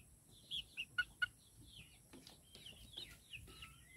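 Chickens cluck and chirp softly at a distance in an outdoor garden, with a few sharper clucks early on and a scattered, quieter murmur of calls continuing afterward.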